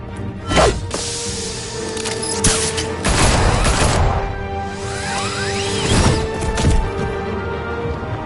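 Gunfire and impacts in a Batman video game: scattered sharp bursts and whooshing hits mixed with mechanical clanks and a low rumbling score, loud and close throughout.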